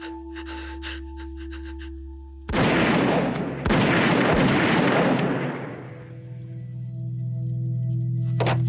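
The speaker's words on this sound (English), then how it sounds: "Oh, and then the 3 gunshots." Loud, booming gunshots from a TV crime drama blast in quick succession, three in all, each followed by a long rumbling echo that slowly fades under a low hum.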